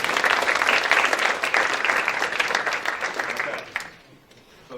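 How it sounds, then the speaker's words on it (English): Seminar audience applauding, a dense burst of many hands clapping close and loud, sustained for several seconds before quickly fading out. "Let's give them a round of applause."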